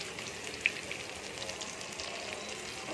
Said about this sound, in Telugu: ఇప్పుడు నూనె వేడి చేశాను. బిస్మిల్లా, డీప్ ఫ్రై చేస్తాను.